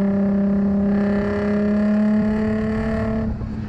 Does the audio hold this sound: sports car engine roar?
yes